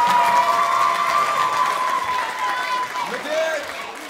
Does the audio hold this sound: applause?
yes